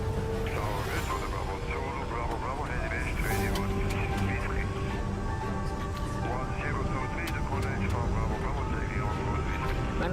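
Swiss Airbus A330-300 starting its takeoff roll on runway 16 at Zurich, a steady loud cockpit engine roar with whining tones and faint radio chatter beneath.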